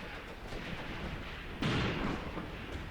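Anti-tank gun in Graviteam Tactics firing a single dull, heavy boom partway through, somewhat distant, over a steady rumbling battlefield background.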